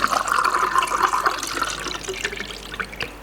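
Normal-temperature stop bath liquid is poured for film development, a close splashing, gurgling flow that trickles and thins out over a few seconds.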